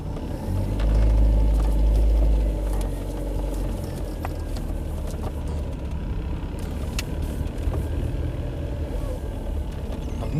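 The engine of a Skoda Favorit runs steadily after start-up on a gloomy day. A low, rough idle-like hum swells early, then settles into a constant drone with faint clicks and rattles.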